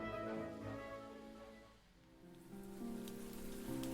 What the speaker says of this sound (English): First, calm rain.